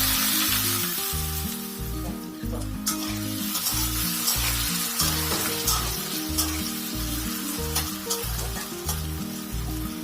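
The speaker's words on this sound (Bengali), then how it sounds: "এবার কুচানো আলুগুলো তেলের মধ্যে দিয়ে নেড়ে চেড়ে নিন।" Chopped potatoes sizzle steadily in hot oil in a pan while being stirred, with a continuous bright frying hiss and scraping stir sounds throughout, no voices.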